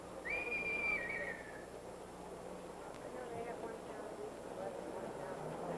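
A police whistle blows at a busy street crossing, a loud sliding shrill blast near the start, then fades into the steady hum of traffic and crowd noise.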